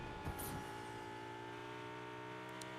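Car engine driving in Fortnite, a steady sustained engine drone with a brief rising rev near the start and faint tire-like noise, no talking over it.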